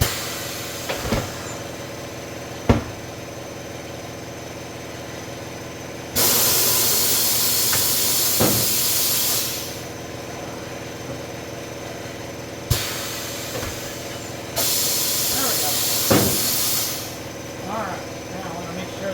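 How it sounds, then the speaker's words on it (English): An air compressor hisses and runs in loud bursts that cut in and out, with sharp clanks and knocks of work on Sprinter van wheels nearby and a voice speaking in the background. "my air compressor's going, so now I got a bunch of noise."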